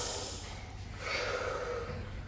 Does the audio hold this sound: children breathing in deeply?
yes